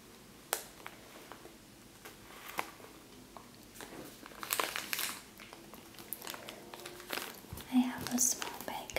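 A small plastic bag of miniature marshmallows crinkles and rustles in close, quiet bursts in a pantry setting, under soft whispered speech.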